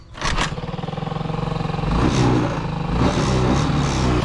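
Honda Ruckus scooter engine catches after a brief start and settles into a steady, loud, close putt-putting idle with a slight rise partway through.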